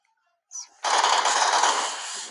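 Sustained automatic gunfire in a shooting video game, a short blip then a loud continuous rattling burst lasting over a second, bright and close with no other sound behind it.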